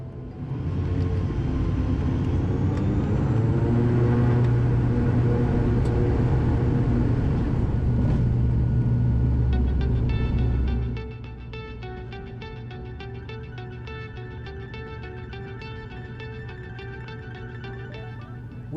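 Cabin noise aboard an Eastern Airways ATR turboprop climbing after a short takeoff run from runway 26 left at Gatwick: a loud, steady broadband roar with low droning propeller tones, easing to a quieter, even hum partway through.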